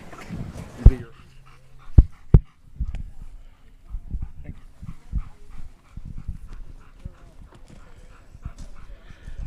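A working dog moves quickly during a protection-sport search at a championship field, with rapid padding footsteps, panting and soft whines, plus a few sharp thumps; a brief voice is heard at the start.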